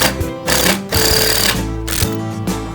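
A power saw cuts 3x2 timber at a 45 degree angle, a loud, harsh buzzing that surges in bursts with brief dips between cuts, close up.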